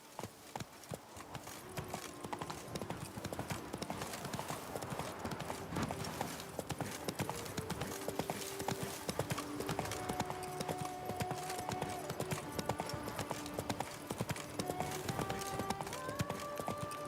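Roach, a horse in the video game The Witcher 3, gallops in a fast, steady clip-clop of hooves close up, with musical tones rising in the background.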